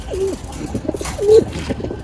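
Pigeons in a loft give close, deep rolling coos, two clear calls with soft rustling between.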